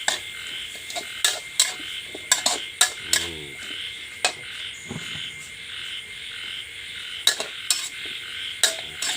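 Egg and vegetables stir-fried in a pan for instant noodles: a spatula scrapes and clanks against the metal in irregular, crisp bursts, with a soft sizzle underneath and no talk.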